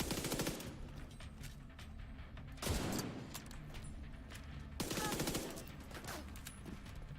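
Gunfire in The Division 2 video game, with rapid automatic bursts and heavier shots roughly every two seconds that stand out loudly over constant battlefield noise.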